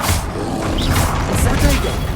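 A Confringo blasting spell explodes in Hogwarts Legacy, a loud, dense burst of crashing, rumbling noise that sustains across the whole moment with a few sharper whooshing flares on top.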